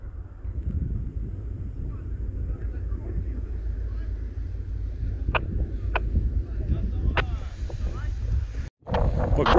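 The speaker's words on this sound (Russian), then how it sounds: "Ветер такой. Задувает." Wind gusts roar steadily around a stopped off-road vehicle on a rainy winter drive near Rzhyshchev, Ukraine, with a few faint clicks and a sudden cut near the end.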